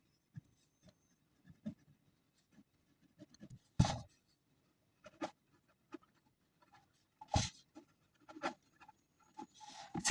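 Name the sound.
writing equations by hand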